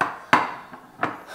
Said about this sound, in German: Die Zwiebeln und Knoblauchzehe, die schneide ich noch.